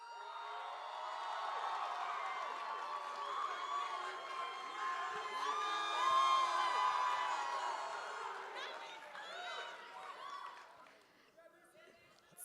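A large audience at a Maryland Masti raas dance competition cheers and whoops for a judge's introduction, a sustained roar of shouts and high voices that swells, then dies away.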